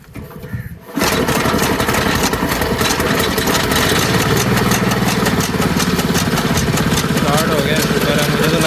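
An engine turning over and catching, then settling into a steady loud idle that runs on continuously and close, with people talking in the background.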